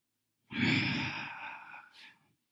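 One long, steady exhalation during a Pilates exercise, close and clear, breathed out for about two seconds and tapering off with a faint final puff, alone without speech.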